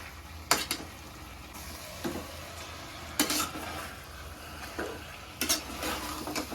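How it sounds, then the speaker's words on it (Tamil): Chicken is stirred into a frying tomato gravy in a pan, with a soft continuous sizzle broken by several distinct scraping strokes of a spoon against the metal. "இப்பவே நான் சிக்கனே சேர்த்துக்கிறேன் நல்லா கலந்து விட்டுக்கலாம்"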